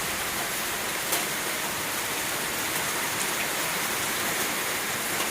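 Heavy rain falls at night around 12:30 in Baripada, Mayurbhanj, during a low-pressure spell that is swelling the rivers. It makes a dense, unbroken roar of downpour with no pauses throughout.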